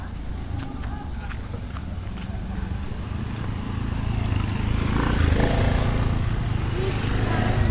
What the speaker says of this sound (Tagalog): Mga motor lang.